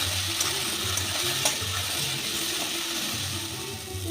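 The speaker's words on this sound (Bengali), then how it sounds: "অল্প একটু লবণ ছিটিয়ে আমি করলাটা একটু ভেজে নেব।" Chopped bitter gourd fries in oil with a sprinkle of salt, giving a steady close sizzle while a spoon stirs and scrapes the pan in a repeating rhythm.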